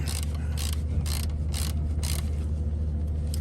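Ratchet wrench loosening a bolt on a car engine beside a still-hot turbo, during dipstick tube replacement, giving several quick metallic clicking bursts over a steady low engine-bay hum, close up with no talking.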